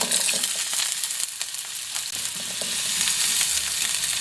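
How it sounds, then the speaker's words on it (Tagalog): Carrots and potatoes fry in a pan with a bright, continuous sizzle and crackle, steady and close throughout, with occasional stirring scrapes. "ipiprito po natin tong carrots at potato"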